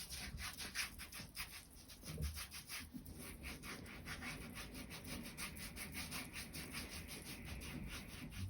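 A pumice stone scrubbing the heels and soles of the feet, a steady rapid rasping rub repeating in quick strokes, close and fairly faint, with no talk.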